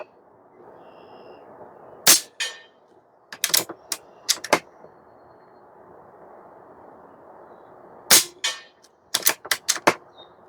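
Barra 250Z PCP airgun firing pellets outdoors: a series of sharp, loud cracks with short decays, a few spaced shots and then quick clusters, over a faint steady background.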